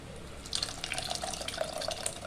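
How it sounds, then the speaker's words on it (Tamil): Strained tamarind water splashing and trickling steadily as it is poured into a pot for black rasam, close by with no voices. "கருப்பு ரசத்துக்கு புளி கரைச்சி ஊற்றிடுங்கம்மா"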